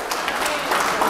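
A church congregation cheers and applauds for God, a dense, steady wash of clapping and crowd noise held at full level for a brief moment.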